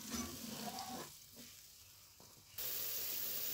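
White wine hits a hot pan while cooking mussels in tomato sauce, giving a steady close sizzle and hiss that dips quieter for about a second and a half, then surges back louder.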